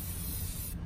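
Spray can hissing paint onto a shoe for hydro dipping, one short, steady, close spray burst that cuts off abruptly at the end.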